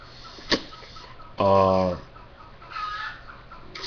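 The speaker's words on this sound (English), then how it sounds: "Oh, you hear that sound? That's the chicken laying an egg." A hen cackles after laying an egg, one loud, harmonic burst of clucking near the middle, set among quieter, scattered background sounds.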